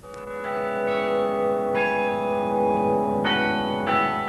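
Carillon church bells ringing in Canberra, several bells struck in a steady sequence with long overlapping resonant tones, loud and close with no talking.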